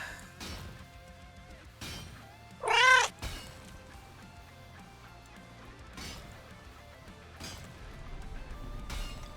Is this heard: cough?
no